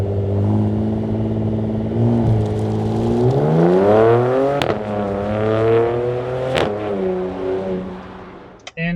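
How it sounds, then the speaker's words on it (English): Porsche Macan engine breathing through a Soul resonator exhaust, revving loudly and rising in pitch with sharp throttle blips, close and steady across the whole stretch with no talking. "definitely consider the Soul resonator exhaust. It really opens up the personality of your motor."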